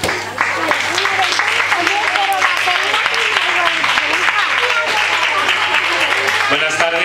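An audience applauds before a theatre company's performance of the play El lenguaje del abanico, a dense steady clapping that holds for several seconds with voices talking over it.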